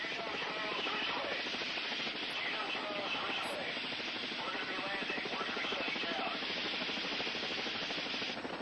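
A rescue helicopter flies overhead, its rotor and engine making a steady, dense thudding roar that holds at a constant loud level throughout, with speech heard over parts of it.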